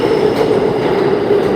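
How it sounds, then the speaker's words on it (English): A train rolls through a station in a steady, continuous rumble with a faint high metallic ring, loud and close with no speech over it. "Every other train's coming but mine."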